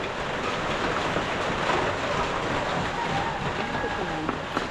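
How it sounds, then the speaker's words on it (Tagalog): Heavy rain pours steadily, a dense broadband roar of drops hitting surfaces, constant and close throughout. "Lakas ng ulan."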